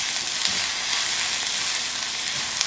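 Onions fry and char in a hot pan, giving a close, steady hiss and crackle of sizzling throughout a short stretch with no voices.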